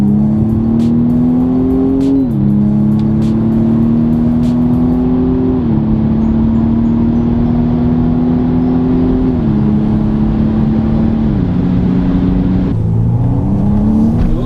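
A 2020 BMW M135i accelerates hard on back roads, its engine note rising steadily through each gear and dipping at every upshift, loud and continuous with no talking over it.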